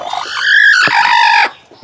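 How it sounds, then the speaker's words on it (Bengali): A Fayoumi chicken sitting in a coop gives one loud, close, drawn-out squawking cluck lasting over a second, rising and then breaking off abruptly. "ভিতরে মুরগি বসে রয়েছে।"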